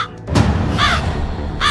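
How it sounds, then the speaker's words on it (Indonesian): Crow cawing in two harsh, rising calls, one in the middle and one at the end, loud and near over a low background rumble, with no talk. "Itu burung gagak."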